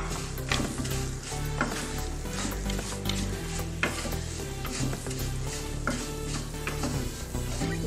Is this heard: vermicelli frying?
yes